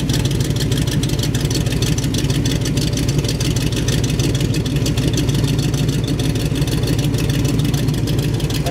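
A loud, deep 1923 Ford Model T bucket hot rod engine idling with a steady throbbing rumble, close up and continuous throughout.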